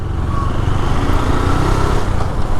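A KTM Duke 250 motorcycle engine runs steadily and loud up close, a dense throbbing rumble with no pauses.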